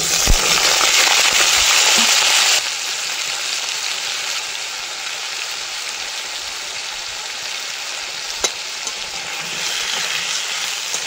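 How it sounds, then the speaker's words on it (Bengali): Potatoes seasoned with salt and turmeric fry in a pan, giving a steady broadband sizzle that is louder for the first couple of seconds, then settles into a continuous crackle with an occasional sharp pop, no voices. "আলুটা লবণ হলুদ দিয়ে ভেজে নেব।"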